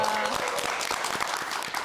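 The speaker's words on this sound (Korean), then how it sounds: "박수로 환영해 주시기 바랍니다." Studio audience clapping to welcome guests on a television talk programme, a dense, steady burst of applause from a crowd, fairly loud and continuous.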